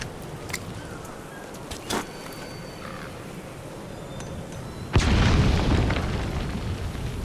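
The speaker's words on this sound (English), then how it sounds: "Let's throw a grenade." A grenade goes off in Metal Gear Solid 5: The Phantom Pain with a sudden heavy boom that rumbles and fades over a couple of seconds, preceded by faint game clicks and small thuds and without talking.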